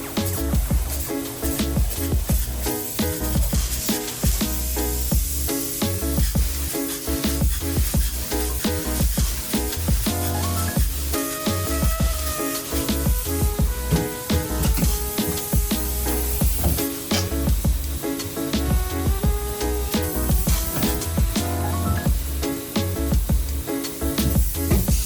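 Spray foam insulation hisses steadily as it is sprayed inside a 1971 Holiday Rambler Reno vintage camper. The loud, continuous spray goes on for the whole stretch with no talk.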